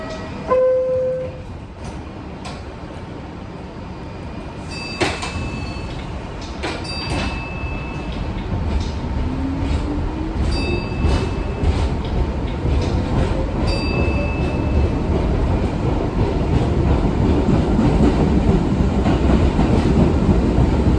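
New York 1 subway train riding underground, a steady loud rumble of wheels and track building over time, with brief squeals and a door-chime-like tone early on, no talk.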